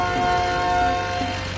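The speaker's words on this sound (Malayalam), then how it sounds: "വണ്ടിയുടെ ഹോൺ അടിക്കുന്ന ശബ്ദം." A vehicle horn sounds a single sustained, steady tone close by, lasting under two seconds over a low engine rumble.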